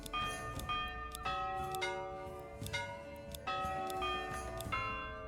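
Church bells in the video game Manor Lords chiming a tune, clear ringing strikes arriving in irregular clusters, each note sustaining and overlapping the next at moderate volume.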